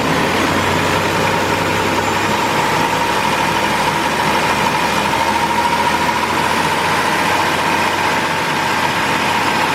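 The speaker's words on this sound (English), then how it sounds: "So let's bring up the idle a little bit over here." A 2005 Chrysler Town & Country engine idles with the idle raised during A/C diagnosis, giving a steady, loud, continuous hum with a constant drone and no variation.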